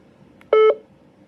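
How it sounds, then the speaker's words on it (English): A DeWalt two-watt two-way radio walkie-talkie gives a single short electronic chime beep, clear and close against a quiet background, with a faint lighter tick just before it. "This is your chime, which is your vibrate, sorry, which is turned on."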